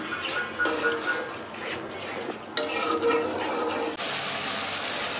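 A spice masala is stir-fried in oil in a pan, a spoon scraping and stirring continuously over a steady sizzle, close and moderately loud, with clinks against the pan.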